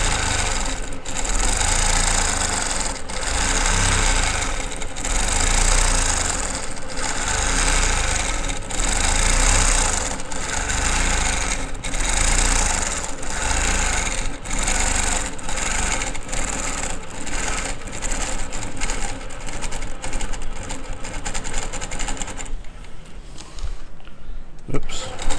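A quilting machine stitching a wishbone pattern along a ruler, a steady loud mechanical whir with rapid rhythmic needle thumps running continuously, fading briefly near the end.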